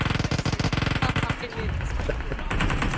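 Rapid bursts of Uzi submachine-gun fire from the shooter game PUBG Mobile, a tight rattling string of shots for over a second, then a rougher, noisy stretch of action sounds.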